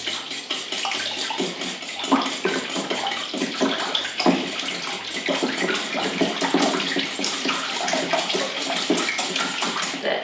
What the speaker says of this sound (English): Then give that a good whisk.